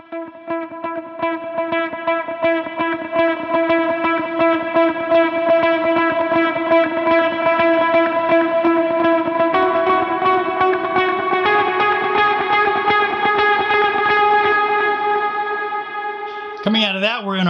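Lead guitar with heavy effects swells in on a sustained chord for the opening of a song, a long ringing wash with echo and chorus that shifts midway, ending in a warbling tail.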